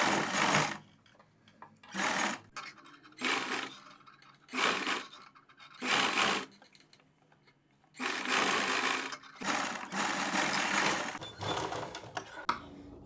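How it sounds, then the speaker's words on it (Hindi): A sewing machine stitches a neck strip on a garment in short repeated bursts, each run of rapid mechanical whirring lasting about a second with quiet gaps between, then a longer continuous run near the end; close and clear with no talk. "इतनी इतनी स्टेप में सिलाई लगाएंगे।"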